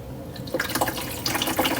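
Water is poured into the front reservoir of a Hamilton Beach smart coffee maker, a steady close splashing trickle that starts after a brief pause and runs on continuously.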